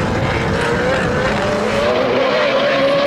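Race cars in the Gran Turismo game at the Panamá circuit accelerating down the main straight, a loud continuous engine roar with rising pitch filling the whole stretch.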